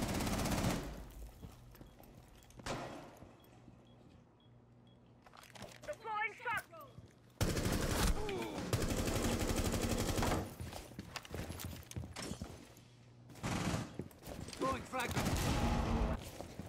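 SMG-11 submachine gun fire in a tactical shooter video game, heard as several loud rapid automatic bursts separated by quieter gaps, with players talking between and over the shooting.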